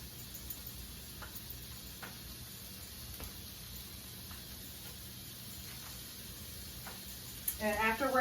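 Bacon frying in a pan for shrimp and cheese grits: a steady, moderate sizzle with scattered small pops and ticks, ending in a brief burst of louder crackle and clatter.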